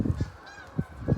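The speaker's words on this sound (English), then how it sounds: "Here's the ducks. The wild ducks." Several loud honking calls from wild waterfowl, most likely geese, come in short bursts near the start and again toward the end, with a quiet gap between them, in a snowy outdoor setting in Hampton, New York.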